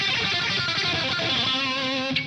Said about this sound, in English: if you would add even more gain,